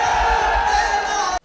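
A stadium crowd roaring and cheering after Shehbaz Sharif's speech, a loud sustained mass of voices and shouts that cuts off abruptly at the end.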